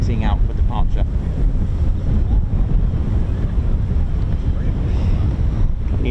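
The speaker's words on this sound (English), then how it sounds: "there's a bit of a strong crosswind as well" A strong crosswind buffets the microphone at an RAF Typhoon station airfield, producing a steady, loud rumbling roar that lasts throughout with no pauses.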